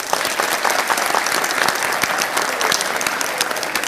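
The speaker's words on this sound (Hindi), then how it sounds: "तालियां इनके लिए।" A large audience bursts into dense, sustained applause at a lively stage discussion, loud and steady for a few seconds.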